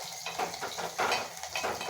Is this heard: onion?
yes